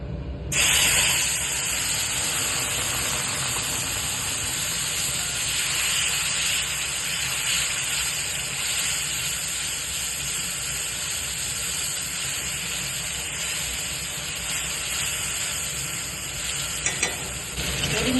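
Spice mix with turmeric and chilli powder tipped into hot oil after frying rohu fish balls for a fish ball curry, producing a sudden loud continuous sizzle and hiss that holds steadily for many seconds, with faint stirring, no talk.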